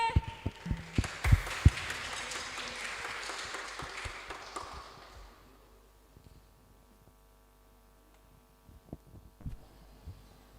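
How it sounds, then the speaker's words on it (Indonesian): Crowd applause at a church youth Easter service at HKBP Jalan Lurah Cimahi, as the youth leader is introduced. Dense clapping fills the first five seconds, then fades to near quiet with a few scattered thumps. "Tepuk tangannya boleh."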